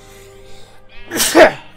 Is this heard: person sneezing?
yes